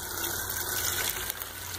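Cold water running steadily into a custom-built swimming pool solar panel water heater, a continuous close rushing flow with no talk.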